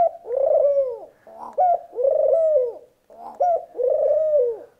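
Pigeons or doves coo in spring mating season, three repeated rolling coo phrases close to the microphone with short gaps between them, and nothing else over them.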